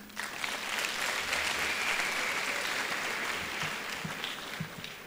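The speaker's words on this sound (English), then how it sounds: "I will say a round of applause for everybody." Steady applause from a graduation ceremony crowd, many hands clapping at an even density throughout, heard at moderate distance without talk.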